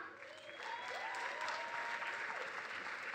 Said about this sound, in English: please, ladies and gentlemen, put your hands together